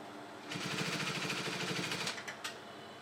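A sewing machine stitches an overlap placket in one quick, steady run of rapid needle strokes lasting about a second and a half, close and fairly quiet, then stops.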